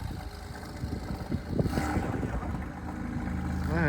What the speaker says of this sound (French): Non, c'est une Porsche. C'est une Porsche, c'est un flat ça.